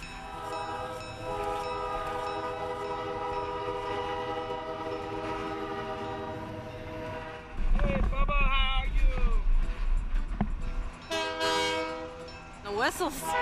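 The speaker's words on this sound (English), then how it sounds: "Some people maybe can't stand that much train whistles, but to me anyway, it means the Straits train is coming." The Strait Shows carnival train sounds its whistle in long sustained blasts, then more whistling and rumble continue under people talking nearby.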